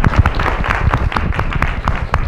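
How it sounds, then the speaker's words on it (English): Chamber audience applauding a presenter at a social media summit, a brief, loud burst of close, uneven hand clapping from a modest crowd. "very big applause."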